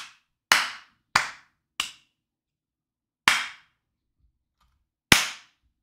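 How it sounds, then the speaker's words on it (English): Five sharp, loud hand claps ring out one by one with uneven gaps, close to the mic and with no talking in between. "Clap again, please."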